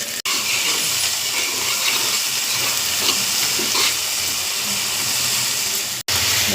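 Onions, green chillies and curry leaves hit hot oil in a pan, making a loud, steady, close-up sizzle that hisses without break.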